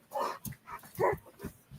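A puppy's soft dog vocalizations, short whimpers and yips in several brief bursts, close by and fairly quiet in a home setting.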